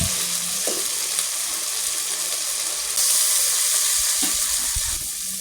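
Chicken sizzles in a pan as it is sautéed with ginger, garlic and onion paste, cumin and salt, with steady frying hiss, stirring scrapes and brief splashes of water.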